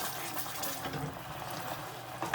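Warm cream poured into a pan of salted caramel gives a steady, close liquid pouring and bubbling sound for a couple of seconds, with a slight surge at the end.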